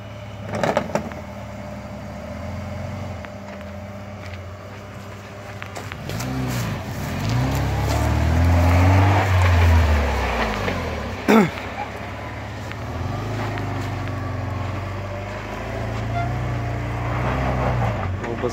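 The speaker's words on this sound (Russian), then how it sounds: "Задних колеса буксуют." A UAZ Patriot's engine revs hard while its rear wheels spin for grip, the motor rising and falling in long surges with a sharp knock midway, up close inside the vehicle.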